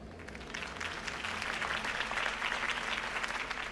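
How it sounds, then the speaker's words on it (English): Sustained crowd applause in the video game Batman: The Telltale Series, dense and steady clapping from many hands throughout, fairly loud and unbroken. "could have heard that applause"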